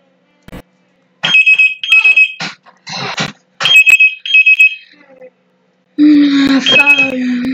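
A telephone rings loudly in bursts of bright electronic trilling, several short rings with gaps, followed by a sustained warbling tone; a voice is briefly heard alongside.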